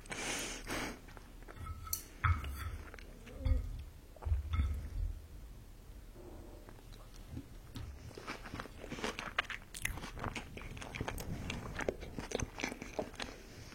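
Close-up crunching and wet biting from eating California maki sushi at a mukbang tasting, with irregular chews and soft squishy mouth sounds recurring throughout, no talking.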